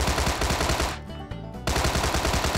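Rapid automatic gunfire in the video game Sausage Man, a dense loud burst of shots that briefly thins out in the middle before resuming at full intensity.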